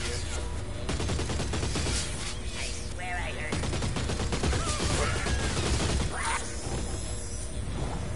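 A possessed Slig firing its gun at enemies in Oddworld: Soulstorm's Slig Barracks, dense continuous shooting and clattering mechanical noise packed into a loud, unbroken wash.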